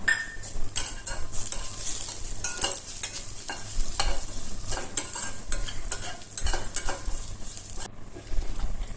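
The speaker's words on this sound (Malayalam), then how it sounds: "ജീരകപ്പൊടി, മഞ്ഞൾപ്പൊടി, മുളക് പൊടി ഒക്കെ ചേർത്ത് ഒന്നും കൂടി വഴറ്റുക" Sautéed onions with cumin, turmeric and chilli powders stirred in a pan, bringing repeated spoon scrapes and clinks over a soft, ongoing sizzle, close and fairly loud.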